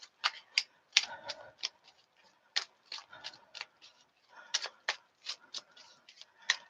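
Tarot cards being shuffled by hand, a run of crisp, irregular riffling snaps and soft slides close up, with short pauses between bursts and no talk.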